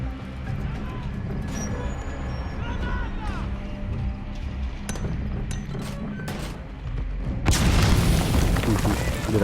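In the video game Metal Gear Solid V: The Phantom Pain, a grenade goes off as a loud, heavy boom late on, after a stretch of game ambience, scattered clanks and someone talking.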